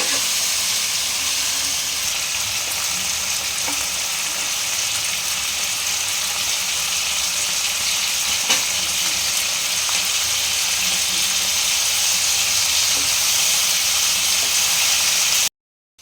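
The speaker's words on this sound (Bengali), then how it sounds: "আমি দিয়ে দিচ্ছি কাজু, একসাথে ভেজে নেব" Cashews frying in a pan for a paneer gravy give a continuous, even sizzle and hiss throughout, close and steady with no voices over it.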